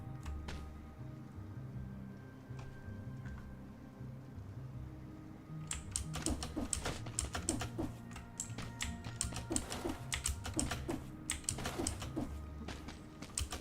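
Rapid keystrokes clatter on a computer keyboard during play of the game Dead Cells, starting partway in as quick, dense bursts of clicks over a low steady background hum.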